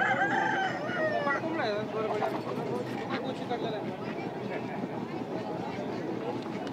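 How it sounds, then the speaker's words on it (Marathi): A Berad breed rooster at a livestock exhibition crows loudly near the start, followed by clucks over a constant murmur of crowd noise and background voices. "हे बेरड प्रजातीचे कोंबडा आहे"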